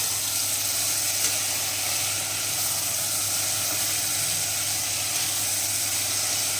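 Steady, loud sizzle and hiss of a vaghar tempering for Mehsana-style mixed vegetable khichdi, spices crackling in hot oil without a break.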